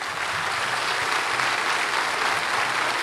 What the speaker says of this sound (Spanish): pido a todos los presentes un fuerte aplauso para ellos.